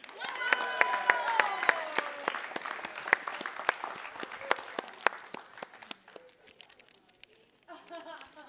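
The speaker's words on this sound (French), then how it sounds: "on l'applaudit" Audience applause during a podcast taping: dense clapping from a studio crowd for several seconds, loud at first and then thinning into scattered claps, with voices and laughter mixed in underneath.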